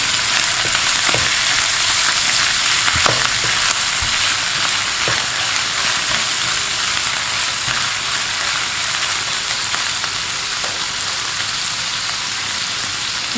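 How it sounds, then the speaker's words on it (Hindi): Boiled beef mince frying in a pan with garlic and ginger, a loud, steady close sizzle with faint occasional stirring ticks throughout. "अब इसके अंदर हम 1/2 बाउल कीमे का डाल देंगे"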